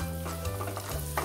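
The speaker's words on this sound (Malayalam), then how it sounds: "സവാള അരിഞ്ഞത് ഇട്ട് കൊടുക്കാം. ഇതിനെ നമുക്ക് നന്നായിട്ട് വഴറ്റി കൊടുക്കാം." Chopped onion sautéing in a pan, a continuous close sizzle with a faint steady hum underneath, a brief unbroken stretch with no voices.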